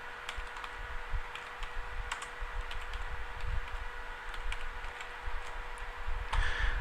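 Computer keyboard typing for a spreadsheet entry, light scattered keystrokes ticking at an irregular pace over a steady background hum, close and fairly quiet.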